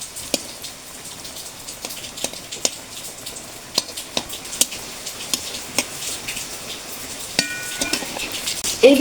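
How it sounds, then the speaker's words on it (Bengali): Pieces of madan katkati sweet snack fry in hot white oil, giving a faint, steady crackle with scattered sharp pops and ticks that grow busier toward the end. "এখন আমি ভাজার জন্য এগুলো তেলের মধ্যে দিয়ে দেবো।"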